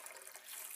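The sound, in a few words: water poured into a blender for a green smoothie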